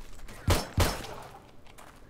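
Two sharp gunshots fired at a zombie cop in the survival video game 7 Days to Die, spaced about a quarter second apart, followed by quieter game ambience.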